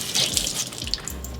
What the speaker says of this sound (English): then you're just gonna run it under warm water